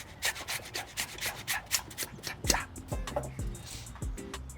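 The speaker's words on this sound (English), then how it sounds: "There's a nice instrument down in South America they use called a rachador, which means a grater." Ginger being grated on a rachador, a South American grater, producing quick repeated rasping strokes, close and moderately loud, with a few low tonal knocks partway through.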